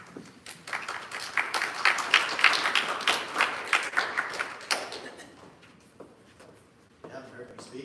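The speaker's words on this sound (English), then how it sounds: "I hold off on the applause." Applause fills a Fort Saskatchewan RCMP town hall, building into a dense patter of claps for a few seconds before thinning out, and a voice then speaks over the quieter room.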